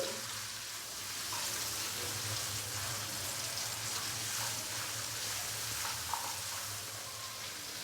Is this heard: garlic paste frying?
yes